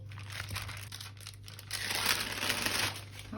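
Cookie dough rolled out with a rolling pin between two sheets of baking paper, a steady close crinkling and rustling of paper that grows louder midway, alone over a low background hum.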